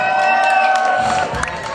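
Crowd noise from a live German rap concert audience, a loud wash of cheering and whooping that holds steady and then eases slightly, with a few shouts poking through.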